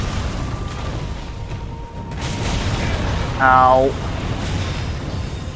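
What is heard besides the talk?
boss attack explosions and fire in video game Dark Souls 3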